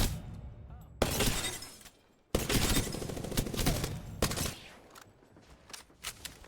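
Prowler gun firing in Apex Legends, rapid bursts of gunfire in several loud clusters separated by short gaps, close and sharp, with no talking over them.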